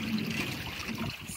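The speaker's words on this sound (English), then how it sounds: "You can see it dripping off of there." Thick net-dip coating drips and trickles off a hoop net in a soft, steady patter, faint and continuous for a moment with no voices.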